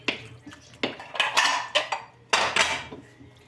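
Plates, pots and cutlery clatter in a home kitchen as dishes are gathered after a yogurt soup is stirred, giving several sharp, close clinks and knocks in irregular bursts with no talking.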